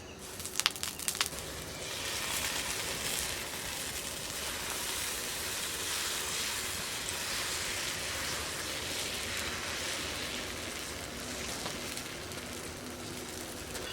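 Oil sizzling on a hot tawa while rice-flour chugli pitha cooks: a steady, even hiss like light rain runs throughout, with a few sharp crackles near the start.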